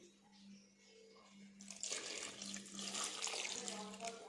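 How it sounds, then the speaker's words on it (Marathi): Cold water poured over freshly boiled potatoes in a home kitchen: a quiet moment, then a steady, fairly close rush of splashing water that continues to the end. "थोडंसं गार पाणी घातलंय"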